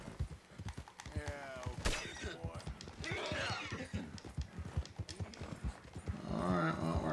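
Galloping horse hooves in Red Dead Redemption 2 clop in a steady rhythm beneath continuous talking throughout, with an occasional whinny-like burst near the end.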